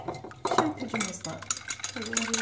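An egg is beaten with a whisk in a bowl with yogurt and milk, giving quick irregular clinks and taps against the side, close and fairly loud.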